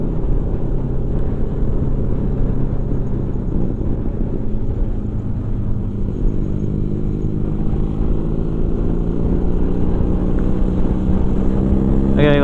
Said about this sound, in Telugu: ఎగ్జాస్ట్ SC ప్రాజెక్ట్ రెప్లికా వేసాడు విత్ DB కిల్లర్